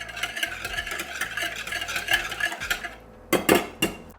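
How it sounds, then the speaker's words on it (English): A whisk beats waffle batter with vanilla extract in a mixing bowl, a steady rapid rhythm of clinking strokes against the bowl, then a few sharper knocks near the end. "And again, whisk this all together."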